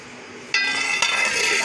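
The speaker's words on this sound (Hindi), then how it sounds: "तो अब हम इसको कवर कर रहे हैं।" A metal lid clanks onto a cooking pot of zeera pulao with a sharp bright clatter, then a second rattling knock as it settles, all over a steady background hiss of simmering water.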